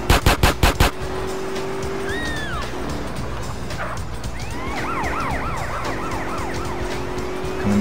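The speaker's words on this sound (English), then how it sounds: "No, it would have to be a police car, wouldn't it?" Police car siren in the video game GTA San Andreas wails in rising and falling sweeps behind engine noise, following a few sharp bursts at the start.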